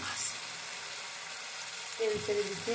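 Oil released over a hot pan gives a steady, hissing sizzle, with a voice speaking briefly near the end.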